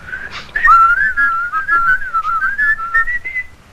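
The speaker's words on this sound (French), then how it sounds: "Moi, d'habitude, quand je rentre, je siffle" A man whistles a wavering, continuous tune on arriving home, clear and close, with no talk.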